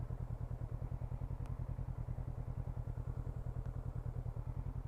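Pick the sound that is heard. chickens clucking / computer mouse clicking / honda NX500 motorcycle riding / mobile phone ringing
honda NX500 motorcycle riding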